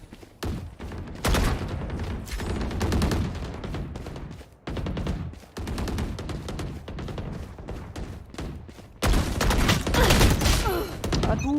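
Dense bursts of gunfire from a Valorant match, loud and nearly continuous with short gaps, rattling volleys stacking on one another throughout.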